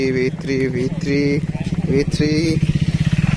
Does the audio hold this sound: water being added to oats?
no